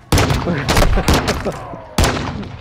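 Close, sharp pistol shots in a video game gunfight on the Mercado map, several cracking reports in quick irregular succession with a pause before a final shot, under talk.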